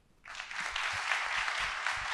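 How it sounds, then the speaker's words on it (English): An audience at a Cincinnati Public Schools back-to-school address breaks into applause, a sudden onset of dense, steady clapping that stays loud and even for about two seconds. "Let's hear one more round of applause for our union representatives"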